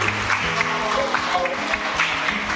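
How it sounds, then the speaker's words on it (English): Wedding guests applaud together in a steady, even wash of clapping that holds at a moderate level throughout. "give him a round of applause"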